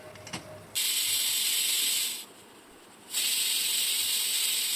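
A pot of potatoes boiling in salted water on the stove gives a steady, bright hiss of steam that drops away briefly and then returns at full strength, close and continuous with no voices.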